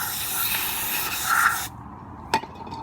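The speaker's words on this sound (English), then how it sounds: "Give it a couple sprays" Throttle body cleaner sprayed from an aerosol can onto a car's throttle body, a loud continuous hiss lasting over a second and a half, then stopping, followed by one short sharp burst.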